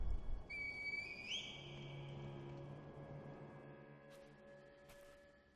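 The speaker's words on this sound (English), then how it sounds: "Call the divine air with the reed whistle." A single rising reed whistle call rings out in the Sekiro game, a clear sustained tone over quiet ambient music that then fades away.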